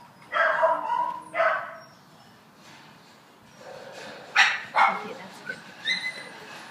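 Dogs bark at a San Bernardino city animal shelter, with loud close barks coming in two bursts separated by a quieter pause, along with yips and snorts over a steady kennel hum.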